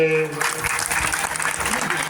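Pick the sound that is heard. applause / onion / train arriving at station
applause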